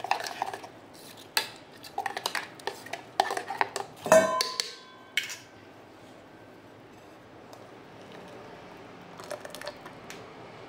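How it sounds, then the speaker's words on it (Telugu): A spoon clinks and scrapes against a bowl as curd is stirred into peanut coconut chutney, with sharp, scattered kitchen knocks early on that fade into quiet stirring. "ఇప్పుడు దీంట్లో ఈ పెరుగు కలిపేస్తాను."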